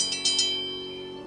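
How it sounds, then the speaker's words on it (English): A service bell in a video game is tapped a few quick times in succession, bright metallic dings that ring on and fade away. "Let me give this bell a ring and see if anybody's home."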